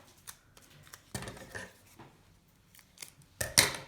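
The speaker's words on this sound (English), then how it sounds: "I just cut off some of the excess tape" Scissors snip off excess tape while making a paper stencil, several crisp close cuts spaced irregularly, the last one loudest, with no talking.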